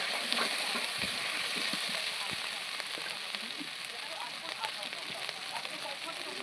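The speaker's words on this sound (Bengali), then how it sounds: "ভালো করে মশলাটা ভালো করে ভাজা করে নেব।" Spice paste of cumin, turmeric, chilli and ginger frying in a pan makes a dense, even sizzle with faint scraping stirs, close and continuous for the whole stretch.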